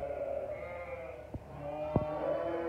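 A sheep bleats during lambing on a farm, drawn-out wavering cries close by, with a couple of brief knocks in between and no talk.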